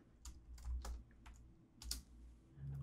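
Fingers type a bin name on a computer keyboard, a quick run of soft, close clicking keystrokes in an uneven rhythm, alone in a quiet room.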